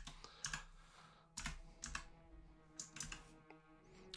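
Keys clacking on a computer keyboard while text is entered into a PlayStation emulator, a rapid run of close, crisp clicks in short bursts with brief pauses, over a faint steady background hum.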